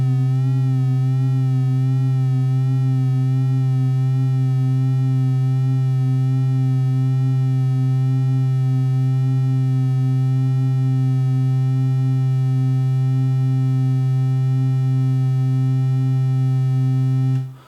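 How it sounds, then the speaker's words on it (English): Elektron Digitone II synthesizer holding one steady low sine-like tone whose upper harmonics waver with a slow tape-like pitch wobble, loud and continuous for about seventeen seconds before cutting off abruptly, with no voice. "I just want to have a slightly tape-like wobble in the sound."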